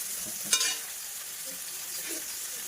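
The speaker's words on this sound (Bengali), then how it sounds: "ইলিশ শুটকি রান্না করছি" Dried hilsa fish being stirred in a hot pan, with a soft, steady sizzle throughout and a brief louder scrape of the spatula near the start.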